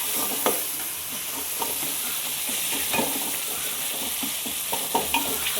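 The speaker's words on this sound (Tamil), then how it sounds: "தக்காளி நல்லா வதங்கட்டும்" Tomatoes stirred and sautéed in a hot pan for a traditional paruppu urundai kuzhambu, with a steady close sizzle and repeated spoon scrapes and clacks against the pan.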